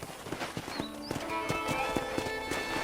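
Horse hooves clip-clop in a steady rhythm in Red Dead Redemption on PS5, a ranch setting, with a snort, faint game music and ambient sound.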